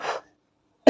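A single person coughs twice: a short, near burst at the start, then silence, then a sharp second cough right at the end.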